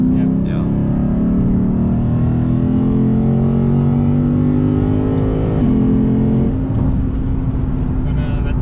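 A Lexus RC F Track Edition on the Nürburgring Grand Prix circuit sweeps past with a loud, sustained engine roar whose pitch climbs and then drops as it goes by, with voices over it.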